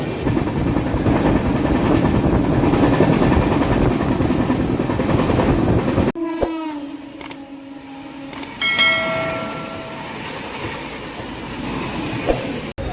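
The Padmavathi Superfast Express, now running with new LHB coaches, roars past loudly for the first six seconds. The noise then drops away into quieter rail sounds with ringing metallic squeals and a few sharp clanks.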